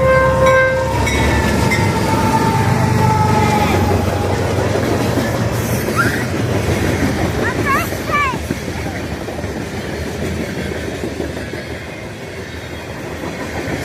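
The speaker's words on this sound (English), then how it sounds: "There is a train coming, and I'm happy." A BNSF train passing through Marion, Ohio, with a loud rumbling roll of rail cars close by, a sustained horn blast at the start and fainter horn notes later, then easing off.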